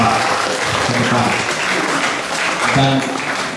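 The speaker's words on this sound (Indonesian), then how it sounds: "Kita berikan tepuk tangan sekali lagi." Seminar audience in Kupang applauding a speaker invited to the front, a steady wash of clapping across the whole stretch, with a few voices faintly mixed in.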